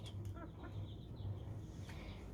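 Young chicks being fed peep and chirp in short high bursts, faint against a low background hum in a domestic setting.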